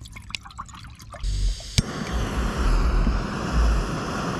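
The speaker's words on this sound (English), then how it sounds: "put some water in there" Water is poured into a pot for ramen outdoors on a fishing trip. A few light drips and taps give way to a steady, loud rushing pour that continues to the end.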